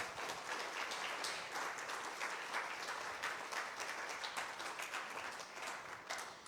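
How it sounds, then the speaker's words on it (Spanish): A church congregation breaks into sustained applause, many hands clapping together in a dense, steady wash that fills the room for several seconds. "Dale una ofrenda de palmas al Señor."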